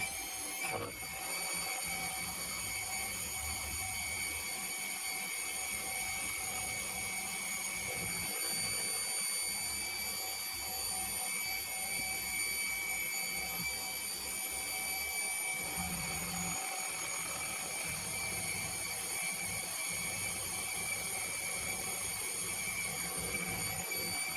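A heavy flycutter spins at 900 RPM on a milling machine, giving a steady, continuous machine whine with a constant tonal hum and low rumble throughout, no voices.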